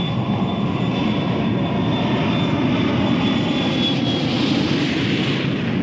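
Roar of a large aeroplane's engines during a steep pull-out from a near-vertical dive on a zero-gravity flight, a steady, loud, broadband rumble with a thin high whine, continuous throughout.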